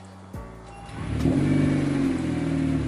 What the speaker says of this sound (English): Okay, let's drop her down and hear it. Alright, cold start, let's hear it.